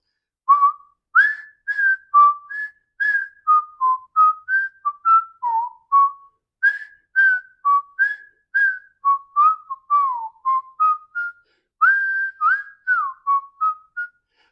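A person whistles the Andy Griffith Show theme solo, a clear bright melody of short tuneful phrases with small pauses between them, close and alone with no talk.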